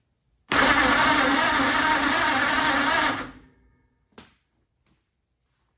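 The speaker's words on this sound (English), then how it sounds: "There's life in it. It cranks over with the starter, so cool." A 1948 Ford truck's flathead V8 cranks over on its starter for about three seconds, a loud steady churning whir that cuts off abruptly, followed by a couple of faint clicks and silence.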